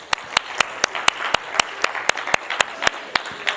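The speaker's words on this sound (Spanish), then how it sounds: "Aplauso para vosotros." Rhythmic group clapping from a youth motivational conference audience, a loud, even beat of sharp claps about four per second, in unison and close, with no voices over it.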